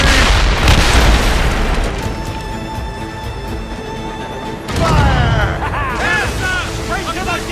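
Cannon fire in the naval game Assassin's Creed Rogue, a heavy booming blast that rumbles on and fades, followed by a second loud roar with shouting voices.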